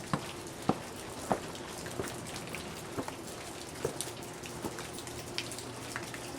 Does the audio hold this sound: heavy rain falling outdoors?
yes